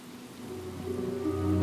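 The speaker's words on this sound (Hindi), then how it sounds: "लगता है बारिश और तेज हो रही है।" Heavy rain pours down in a steady, dense hiss that swells toward the end, under low sustained musical tones.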